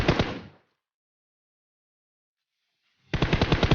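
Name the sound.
gunfire from a video game battle royale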